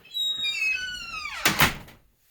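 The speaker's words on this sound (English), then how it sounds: "now we're going to go ahead and close the door" A door in a man cave swings shut with a long rising squeak of the hinges, then a solid double thud as it closes, loud and close, followed by quiet.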